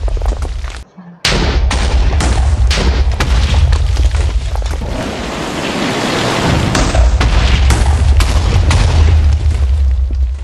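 Dense explosions and rapid gunfire from a Minecraft Skibidi Toilet mod battle between G-Man and Titan characters, a loud near-continuous barrage of booms and shots with a brief dropout early on.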